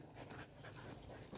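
A hunting dog pants rapidly and steadily, close to the listener, with faint whimpering in a brief burst outdoors after a run through the forest.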